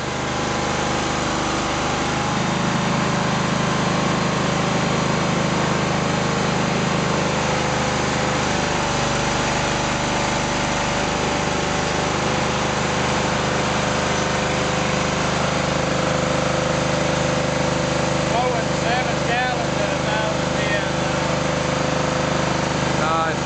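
A Toro 3100 mower engine, under rebuild and testing, runs and warms up with a loud, constant, unbroken mechanical drone for the whole stretch, close by and steady.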